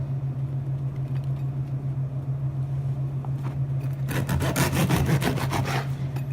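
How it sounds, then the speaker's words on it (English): A knife saws through a loaf of bread in a run of rapid, rough strokes after a quiet start, steady background hum beneath, close and moderately loud. "I'm going to cut half slices about as thick as a regular slice of bread"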